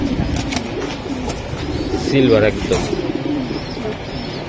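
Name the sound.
Giribaz pigeons cooing at a farm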